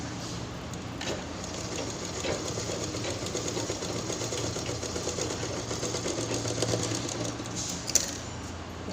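A sewing machine stitches a cloth purse at home in a steady, close mechanical whir that runs continuously with a small click near the end, and no one speaks.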